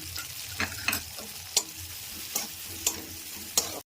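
Ground coriander, cumin and chili powder frying in a pan for a prawn and yam curry, a soft continuous sizzle broken by regular scraping strokes of a spatula, close up with no voices.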